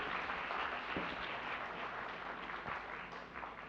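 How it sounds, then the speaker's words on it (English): Steady applause from a graduation-ceremony audience honoring the parents at an IBDP graduation, a dense, even wash of clapping heard from a distance and sustained for several seconds with no voices over it. "So big round of applause for the parents."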